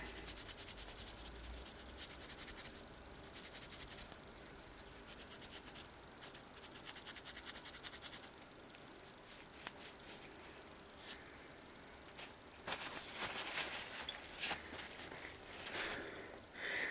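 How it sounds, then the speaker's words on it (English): A cloth rubs Brasso onto a shotgun shell casing with quick, faint, scratchy back-and-forth strokes in bursts, separated by brief pauses in a quiet room. "I'm just going to take a very small bit of brasso and then just polish up the shell."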